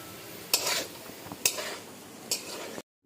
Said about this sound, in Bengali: ও বাঁধাকপি আলু ভাজা হচ্ছে